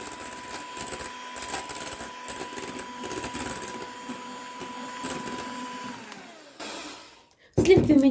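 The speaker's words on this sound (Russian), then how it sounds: "Начинаю взбивать сначала на средних, потом на высоких оборотах миксера." An electric mixer whips cream with a steady high-pitched motor whine that holds for several seconds, then drops in pitch and cuts out, followed by a louder clattering burst.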